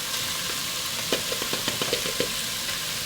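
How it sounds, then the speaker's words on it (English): Six roasted, peeled and seeded Hatch green chilies, about a cup, go into a pot of pork stew over steady, loud frying sizzle, with a run of soft, irregular wet thumps and stirring knocks close by. "Now let's add our green chilies"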